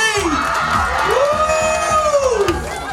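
Crowd at a holiday event cheering loudly, with a long rising and falling whoop over a bed of clapping, rowdy and close.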